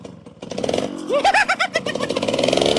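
A motorcycle engine with a modified exhaust pipe revs up in rising and falling bursts, loud and close, with people talking over it.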